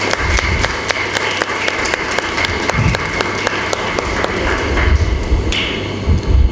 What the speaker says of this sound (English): Let us once again give a big round of applause to all the dignitaries.